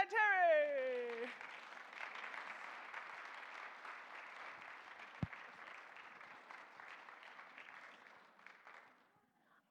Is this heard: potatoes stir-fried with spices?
no